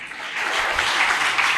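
A church congregation claps for Christ during a sermon, a dense, steady wash of applause filling the whole stretch with no voice above it.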